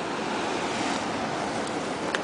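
Surf spraying against rocks by the sea, heard as a steady, loud broadband wash of breaking water with a wind-like rush throughout and no voices.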